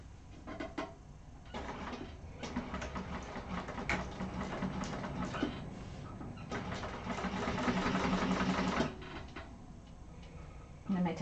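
A sewing machine stitches through a thick Penny Inn wallet in a series of close, rhythmic runs with brief pauses, its needle ticking steadily and growing slightly louder toward the end.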